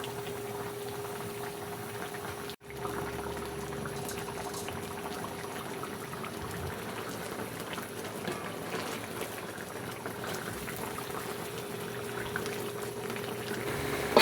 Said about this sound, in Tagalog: Hayaan lang natin siyang kumulo hanggang 30 seconds